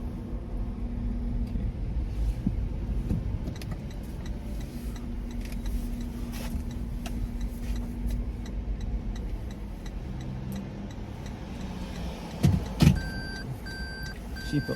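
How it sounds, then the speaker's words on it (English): A car reverses slowly inside a parking garage, its engine a low steady rumble with faint clicks and ticks, echoing off concrete, followed by a few brief knocks and clunks near the end. "I'm backing up. I always back up so I can pull straight out."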